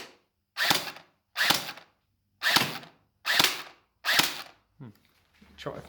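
Five sharp shots from an STD6 gel blaster fired at close range at an angle, evenly spaced about a second apart, each a crisp snap with a short tail, followed by faint mechanical clicks.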